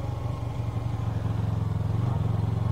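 A motorcycle engine revs with the clutch pulled in, a steady close throaty rumble that rises slightly in pitch toward the end.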